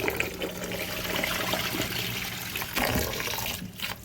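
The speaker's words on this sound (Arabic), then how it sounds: "بكلوة ايدي بالراحه، ما تضغطيش على الحبايه، بكلوة ايدك الاتنين تحت الميه" Rice being washed by hand under steadily running tap water in a kitchen, a continuous close rushing and splashing of water that shifts as the grains are rubbed.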